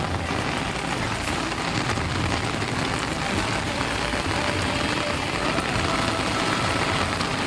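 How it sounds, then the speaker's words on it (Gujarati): Heavy rain pours steadily in a dense, continuous hiss, loud and close, with no voices over it. "વરસાદ કેવો હે."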